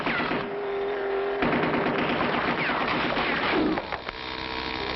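Cartoon machine gun fire from a gun turret on a rocky road in a 1960 animated adventure, a steady rattling burst lasting several seconds with engine-like rumble and hum beneath.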